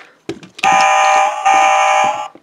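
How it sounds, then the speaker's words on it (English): An electronic fire truck horn effect from a Transformers Energon Leader Class Optimus Prime toy blares as a loud, steady tonal wail, briefly dipping midway, after a few soft button clicks. "that sound is kind of like the horn of a fire truck that's headed to the rescue"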